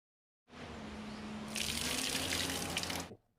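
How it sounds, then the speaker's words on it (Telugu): Raw tamarinds washed under running tap water in a sink, a steady close gush of water that grows brighter and splashier partway through, then stops abruptly. "1/2 కిలో చింతకాయల్ని శుభ్రంగా కడుక్కుందాం."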